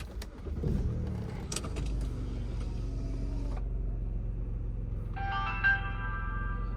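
A BMW E9X car drives along on a test drive, giving a steady low road and engine drone with a few clicks and creaks early on and a short electronic chime near the end.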